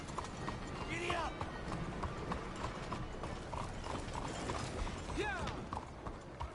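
Horse hooves clip-clop in a steady rhythm during riding in Red Dead Redemption 2, a continuous moderate trotting patter under game ambience with faint mechanical clicks and a short snort or whinny-like call.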